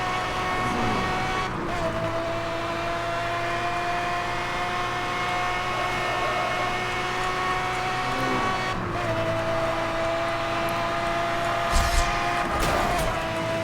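A race car accelerating hard in Need for Speed: Hot Pursuit (2010), a loud, steady high-revving engine whine that climbs through several gear shifts, with brief tire and impact noises toward the end.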